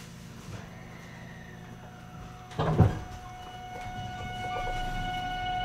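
A JR 223 series local train door opening after its door button is pressed, a short thump and slide in the middle of the clip over a steady hum inside the carriage, with no speech.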